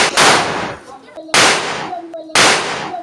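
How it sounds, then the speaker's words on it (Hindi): Diwali firecrackers burst in three loud, sharp bangs spaced about a second apart. Each blast trails off in a decaying rumble and echo. "हम लोग 10:30 बजे तक बम जला रहे थे और सबको जगा रही थी।"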